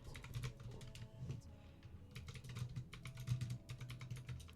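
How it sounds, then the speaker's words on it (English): Loud computer keyboard typing rattles in quick bursts of clattering keystrokes, pausing briefly between runs over a low background hum. "Sorry, my keyboard's loud."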